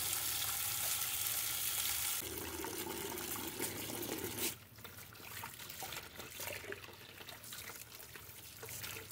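Water pours and splashes into a container while it fills, used for washing uprooted lotus tubers, a steady loud rushing flow that softens partway through into a quieter, uneven trickle and slosh.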